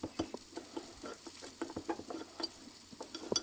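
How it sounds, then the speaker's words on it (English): Dry ingredients with Tony Chachere's seasoning are whisked in a bowl, giving quick, rhythmic scratchy taps and soft clinks that repeat in short bursts, close and fairly quiet. "I'm just going to whisk these dry ingredients all up together."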